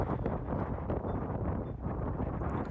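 A strong gust of wind blasts across the microphone on an open disc golf course, a dense, steady roar that holds for a few seconds with no talk.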